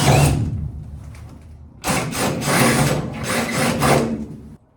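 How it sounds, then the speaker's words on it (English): Drilling through the roof of a school bus being converted into a skoolie: a short burst of rough grinding, a pause, then a longer loud stretch of drill chatter on sheet metal, close by. "Initial hole has been drilled to the roof."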